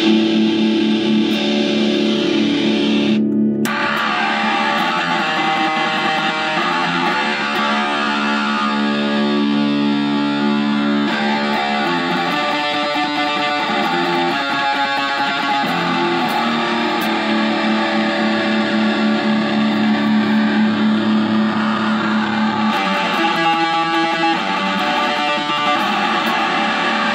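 An electric guitar played through a metal distortion pedal with a mid sweep gives out thick, saturated, buzzing chords and riffs, loud and continuous with brief pauses, with no talking.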